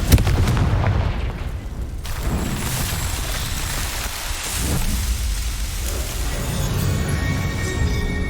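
A Confringo blast spell goes off in a Harry Potter wizarding video game, heard as a sharp boom at the start that opens into a loud, sustained crackling rumble, like burning debris and rain, filling the whole stretch with no speech.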